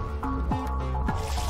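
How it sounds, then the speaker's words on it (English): Short liquid trickle and drips from a faucet in the video game Virtue's Last Reward, heard over a sustained musical tone, brief and moderately loud. "there's hydrogen monoxide coming out of that faucet. That's water."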